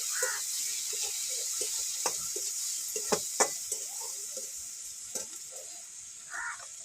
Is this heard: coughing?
no